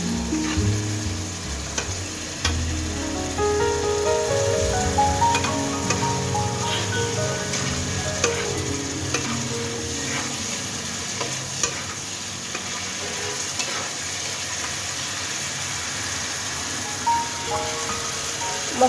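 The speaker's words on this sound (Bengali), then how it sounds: "মশলাটা আমার কষানো হয়ে গেছে।" Spices of salt, turmeric, chili, cumin and coriander powder fry in oil for a fish and spinach curry, a steady loud sizzle under repeated scraping stirs of a spatula, close and continuous with no talk.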